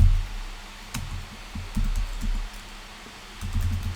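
Keys clack on a computer keyboard while code is entered, a few quick bursts of close, crisp taps separated by short pauses, with no talking.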